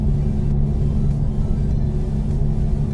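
Car engine in a driving simulator game, a steady low rumbling drone with constant hum, no talk, moderately loud and unchanging.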